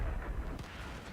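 An AT7 tank destroyer gun fires in World of Tanks, a single dull boom in the middle of a low, rumbling battle ambience.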